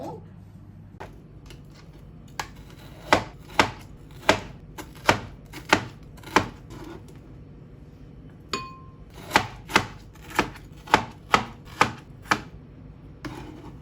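A knife dices fresh strawberries into cubes on a cutting board, giving crisp, evenly spaced chops in two runs of about six and eight strikes, separated by a brief pause, close and distinct.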